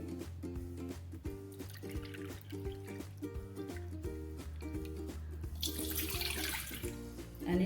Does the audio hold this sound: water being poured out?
yes